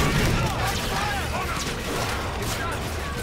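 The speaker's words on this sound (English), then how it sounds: "I'm getting shot now." Gunfire hits the player in the Infinite Warfare campaign at Port Armor, a busy clatter of shots, impacts and mechanical rattles with whooshing sweeps, loud at first and then steady.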